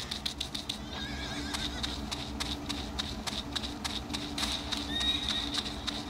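Horse neighing and whinnying in a cougar simulator video game set in Yellowstone, several high calls repeating over steady game ambience with hoof clatter, moderately close and clear, no talking.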